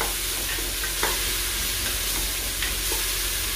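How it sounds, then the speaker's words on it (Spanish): Onion and garlic sautéing in plenty of oil in a pan, a steady, even sizzle and hiss that fills the clip, with a few faint scrapes of stirring. "la cebolla y el ajo. Y lo rehogamos bien."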